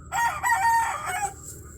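A young gamecock (stag) crows once, loud and nearby, a drawn-out cock-a-doodle-doo that trails off into quiet background noise.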